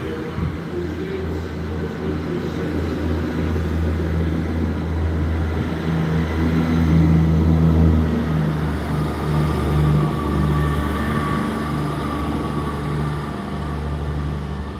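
A Great Western Railway locomotive pulls away from a station, a steady, loud low engine rumble and drone that builds slightly mid-way and holds throughout, with no talking.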